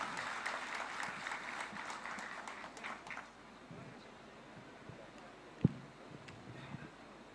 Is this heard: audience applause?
yes